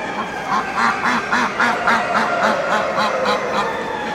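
A white gander at a Limoges poultry show gives a rapid series of nasal honks, roughly two or three per second, fairly close and steady, over a busy hall murmur.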